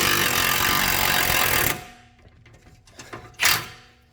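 Impact wrench shocks a nut off a front air strut assembly on an L322 Range Rover, a loud sustained rattling burst of under two seconds, then quiet clicks and a short knock.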